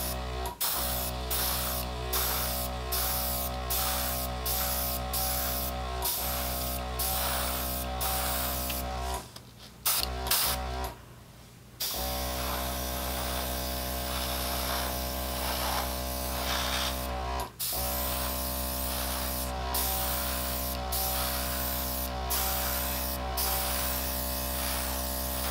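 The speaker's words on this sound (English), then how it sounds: "Now I'm gonna get my airbrush and just go ahead and start." An airbrush spraying acrylic paint for a Dutch pour painting, a steady close hiss with a buzzing compressor hum underneath, briefly cutting out twice before continuing evenly, no talk.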